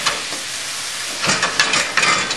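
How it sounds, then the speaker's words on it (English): White wine, an Alsace Riesling, poured into a hot risotto pan with chicken and mushrooms to deglaze it, giving a close, bright steady sizzle that swells in several bursts. "We're actually going to deglaze the pan with a little bit of white wine here."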